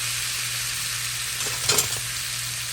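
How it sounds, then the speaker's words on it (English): A one-pound bag of broccoli frying in a very hot pan gives a steady, dense sizzle throughout, with a brief louder crackle near the middle. "Keep that heat all the way up. And we're just gonna let that broccoli cook."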